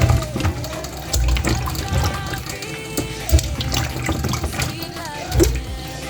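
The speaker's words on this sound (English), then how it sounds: "So we put in a sufuria with water." Water splashes and gurgles as it is poured into a sufuria cooking pot holding washed cassava, with bumps and knocks from the pot and voices talking over it.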